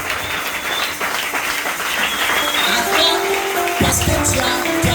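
A church congregation applauds at an evening session, a steady dense wash of clapping that holds throughout, with music or voices rising underneath toward the end.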